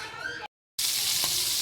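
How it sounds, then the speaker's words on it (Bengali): Fish fries in a hot pan for a Bengali home-cooked meal, giving a loud, steady, close sizzle. The sizzle is broken by a brief dead-silent gap. "মাছ ভাজা"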